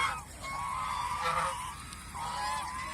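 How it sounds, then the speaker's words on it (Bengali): Domestic geese on a farm honk in a few drawn-out, nasal calls at a moderate distance over a low background hum, with no talking. "রাজহাঁস"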